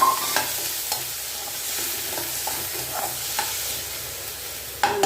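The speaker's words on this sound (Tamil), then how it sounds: "வெங்காயம் வதங்கிறது" Onions sizzle and fry steadily in a pan, with occasional clinks and scrapes of a spoon stirring; no voices.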